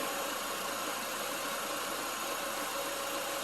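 A 2020 Chevy Equinox idles with its AC compressor running, giving a quiet, steady engine hum and hiss that stays even and unbroken from start to finish.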